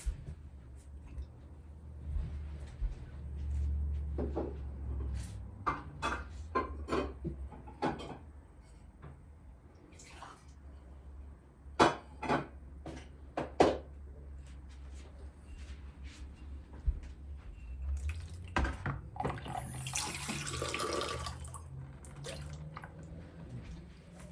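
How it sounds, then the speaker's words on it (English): Water trickling and dripping from a tap while making whole-wheat bran pita bread at home, an irregular series of soft drips and splashes, close by, low and steady, with no talking. "I'm gonna get a little bit of water here."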